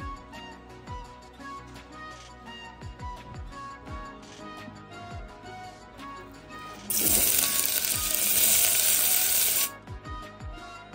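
Onions hit homemade ghee in a pressure cooker and set off a sudden loud sizzle lasting about three seconds, between quiet clinks and faint kitchen ticks.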